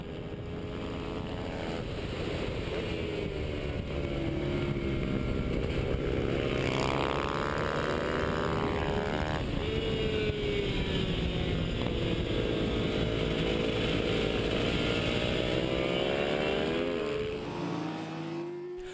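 A small 125 cc motorcycle races in a rally-style event alongside other riders, engines droning steadily with rising and falling pitch sweeps, loud and continuous throughout with a faint wind-like hiss beneath.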